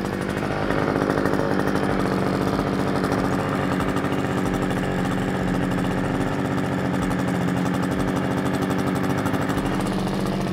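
An EvoTools BC 427 petrol brush cutter with a 1.8 hp engine runs steadily and loudly throughout, with a continuous buzzing two-stroke drone close by.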